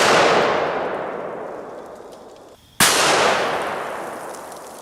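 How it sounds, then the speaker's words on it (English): A single loud, booming 500 Smith & Wesson Magnum shot fired outdoors with Underwood 500 grain jacketed lead flat nose ammunition, its echo decaying before a second powerful report rings out and trails off. "let's hit it with the 500 Smith & Wesson Magnum"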